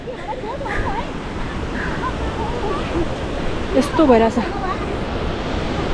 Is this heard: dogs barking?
no